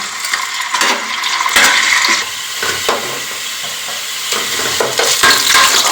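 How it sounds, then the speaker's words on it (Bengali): Onions fry in hot oil with bay leaf, cinnamon and a cardamom pod for mung dal pilau, giving a steady loud sizzle and crackle with scraping stirring strokes throughout, no talking. "তেলের মধ্যে দুটো পেঁয়াজ দিলাম, পেঁয়াজটা ভেজে নেবো।"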